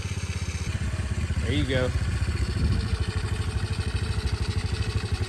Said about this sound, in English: let the bike warm up